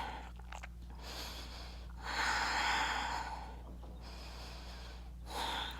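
During a strong core yoga flow, a person breathes deeply and slowly. Four or five audible inhales and exhales rise and fall close to the microphone over a low steady background hum.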